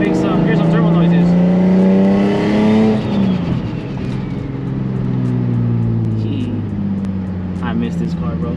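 Turbocharged Nissan 350Z being revved: a loud engine tone rises and then drops away with a turbo whistle, then settles into a varying lower rumble, with people talking over it.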